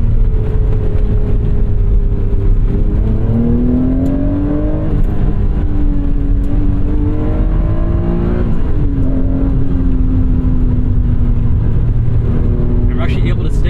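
A 1991 Acura NSX with aftermarket coilovers accelerates hard in second gear, holding VTEC. Its engine drones loud and steady, pitch climbing and falling through the rev range, with a voice talking over it.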